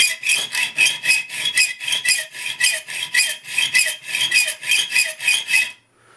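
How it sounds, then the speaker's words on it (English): A sharp hacksaw cuts down a screw held in a vise, a close, rhythmic rasp of steady back-and-forth strokes, about two per second, that stops abruptly at the end. "Good sharp hacksaw works really nice."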